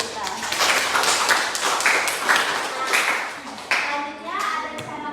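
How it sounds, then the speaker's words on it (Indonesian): Clapping and light applause from a small group right after a relaxation technique session in a group presentation, steady hand claps near and moderately loud for about five seconds with a voice and chatter mixed in. "Beri tepuk tangan dulu untuk kita."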